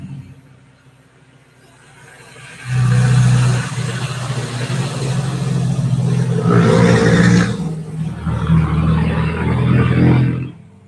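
Heavy construction machinery moving soil and rubble rumbles nearby with a steady low engine drone, rising and surging as it works, grinding on continuously for several seconds.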